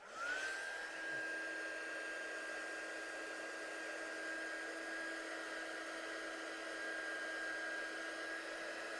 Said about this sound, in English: I was going to blast this with a heat gun now, just to make sure it's not wet for when we die cut